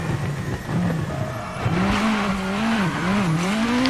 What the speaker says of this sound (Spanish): Dios, cómo suena el coche, por favor.